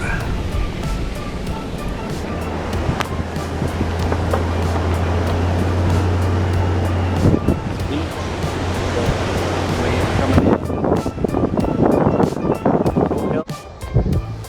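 Ocean surf washes onto the beach along Tow Hill Road near Masset, heard from inside a car through an open window as a loud, steady rushing roar with some wind buffeting.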